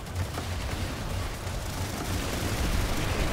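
Dense, continuous gunfire in Planetside 2 during a chaotic infantry battle, rapid overlapping shots blending into a loud, unbroken roar of automatic fire.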